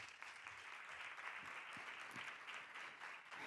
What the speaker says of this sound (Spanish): Así que demos un gran aplauso a María Adel.